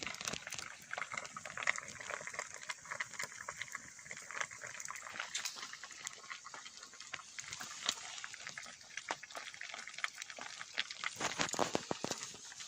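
A pot of lunch boils and bubbles steadily, a continuous soft churning and popping of liquid heard close and fairly faint, with no talking.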